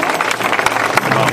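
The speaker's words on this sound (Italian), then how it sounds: "Un applauso a Diablo!" A crowd applauds a performer at a 2011 show in Lauria with a loud, dense, unbroken clatter of many hands, close and steady for the whole moment.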